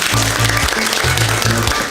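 A lecture audience at a university intellectual property talk gives a brief burst of applause, mixed with low tonal sound underneath.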